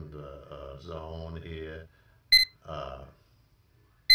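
An Ambient Weather WS-2902 Osprey weather station console gives short, sharp electronic beeps as its set button is pressed, two brief tones separated by a pause, following a man's speech.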